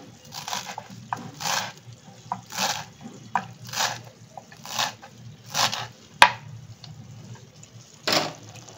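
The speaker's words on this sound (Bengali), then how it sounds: "এরপরে আমি একটুখানি ধনেপাতা কাটবো বা কোরিয়েন্ডার লিফ" A knife chops fresh coriander leaves on a board for a Bengali pabda fish curry, giving about a dozen soft, evenly spaced thuds, close and moderately loud, without talk.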